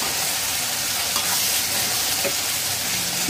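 Vegetarian okra masala, made without onion or garlic, sautéing in oil in a pan, giving a loud, close, unbroken frying sizzle with a faint stirring texture.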